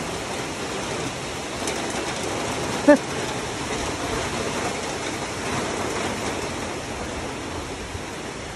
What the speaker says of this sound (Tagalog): inaabot na kami ng malakas na ulan